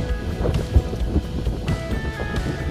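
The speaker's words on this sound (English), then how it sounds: "The wind is really blowing now." Strong wind gusts on a hiking trail in Shenandoah National Park in October, heard as a loud low rumble buffeting the microphone with uneven thumps and no talking.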